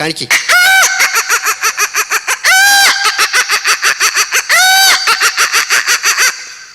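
On a comedy stage, a voice imitates a rooster crowing: three long, loud, rising-and-falling cock-a-doodle-doo calls, each followed by rapid rhythmic clucking bursts that run almost without pause between them.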